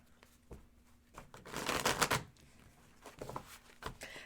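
Tarot cards shuffled by hand during a live reading, a dense riffling burst in the middle followed by a few shorter crisp card snaps, close and fairly quiet with no talking.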